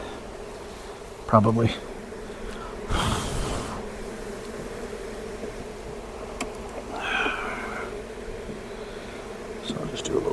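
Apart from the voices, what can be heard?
bees buzzing around beehive boxes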